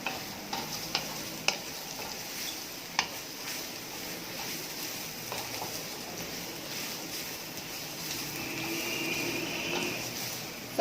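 Carrots and mixed vegetables are stirred and cooked in a pan, giving a soft steady sizzle broken by scattered scraping clicks of a spoon against the pan, fairly quiet throughout.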